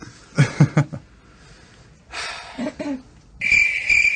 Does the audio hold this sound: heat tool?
no